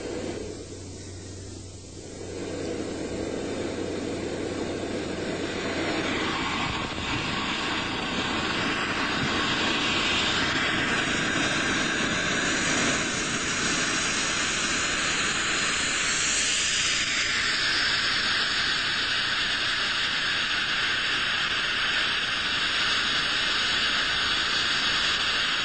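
An amateur rocket engine test-fires through a supersonic nozzle outdoors, opening with a short low hum and rising into a loud, sustained roaring hiss that settles into a steady high scream, alone with no talk.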